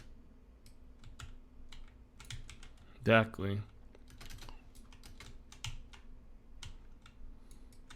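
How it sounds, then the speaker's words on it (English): Rapid tapping on a mechanical keyboard during PC gaming, a quick irregular stream of light clicks heard through a Stellar X2 Vintage microphone, with a brief spoken word cutting in once. "hear how much it either picks up or rejects the tapping from my mechanical keyboard"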